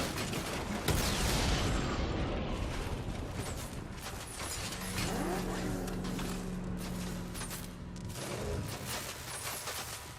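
Batmobile in the video game Batman: Arkham Knight, a loud, continuous engine roar with mechanical rumble and bursts of impacts and gunfire-like booms, steady throughout at close range.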